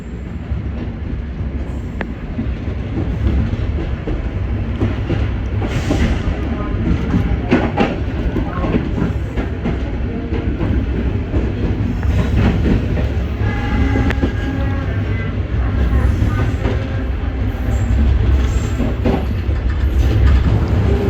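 A cheap local passenger train on the Probolinggo–Surabaya line pulls out of Surabaya Kota station with a continuous heavy rumble and rail clatter that holds steady and close for about twenty seconds.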